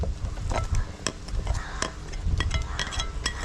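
Coconut-cumin paste being stirred into a simmering colocasia curry, with soft scraping and light clinks of a spoon against the pot, close and steady, over a low bubbling background.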